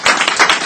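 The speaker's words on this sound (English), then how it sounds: "Put your hands together and let's clap for that." An audience at an expo panel session claps in a brief, loud burst of many hands, dense and close with no talking.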